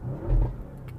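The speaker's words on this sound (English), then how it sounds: "Engine sound is magnificent." A 2015 Audi RS6 Avant engine gives a short, muffled rev that swells and quickly fades, heard from inside or near the car, fairly quiet and with no talking over it.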